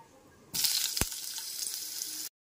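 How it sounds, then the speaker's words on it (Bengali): Boiled radish pieces tipped into hot tempered oil in a pan for masoor dal, setting off a sudden bright sizzle with a sharp clatter as they land, then a steady crackle that cuts off abruptly. "এরপর এতে সেদ্ধ করে রাখা মূলোগুলোকে দিয়ে দিচ্ছি।"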